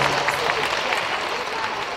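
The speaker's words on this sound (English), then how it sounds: "Give yourselves a round of applause." A large awards-night audience applauds loudly and continuously, the clapping dense and even with crowd noise blended in.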